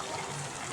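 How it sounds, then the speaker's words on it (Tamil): Water poured into a cooking pot while making a potato and chicken curry, a steady, continuous rushing gush at moderate volume with no talking. "அப்போ தண்ணி அளவாக போடுவோம்"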